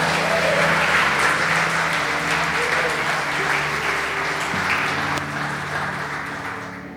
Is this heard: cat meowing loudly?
no